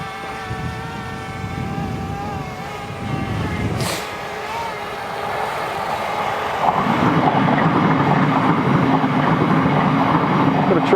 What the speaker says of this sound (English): Got a train going by.